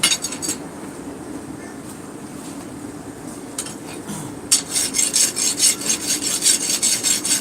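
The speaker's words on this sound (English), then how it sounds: "I got my good old rasp." A hand rasp scrapes across the wooden body of a garden candle holder, first in soft intermittent rubs, then in a fast run of loud, rhythmic back-and-forth strokes close by.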